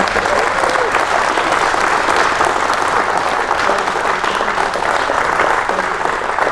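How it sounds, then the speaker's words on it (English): Steady audience applause fills a talk at Albuquerque's National Museum of Nuclear Science, dense even clapping from a sizable crowd sustained for several seconds without a break. "Let's give Jim a round of applause."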